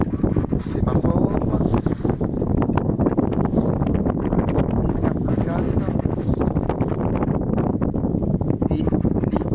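Steady blustery wind buffets the microphone, a constant rushing roar with a low rumble, like being out on open water under sail.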